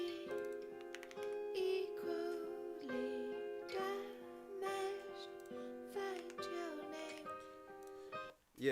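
New computer keyboard being typed on in quick, irregular bursts of clacking keystrokes, mixed with music playing in the room.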